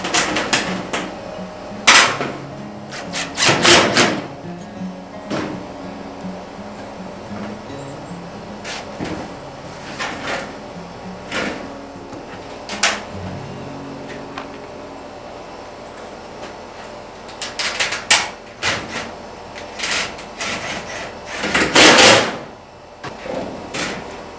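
Screws being driven into the top panel of a 32-hen laying box, heard as bursts of close, sharp clattering and whirring spread through the clip, with knocks and handling noise between.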